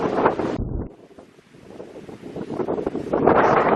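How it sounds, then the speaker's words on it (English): Gusty coastal wind on the England Coast Path between Mundesley and Cromer buffets the microphone in rough bursts, easing for a moment midway before roaring back strongly. "as windy as ever."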